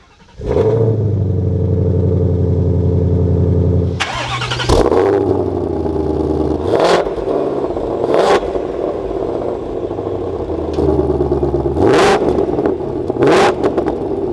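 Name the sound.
sports car engine starting and revving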